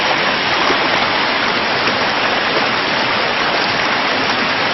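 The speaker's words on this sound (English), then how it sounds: "There's where the water comes down." A small waterfall in a creek beside a hidden pond, a loud, steady broadband rush of falling water with no pauses or voices.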